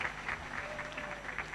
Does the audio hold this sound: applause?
yes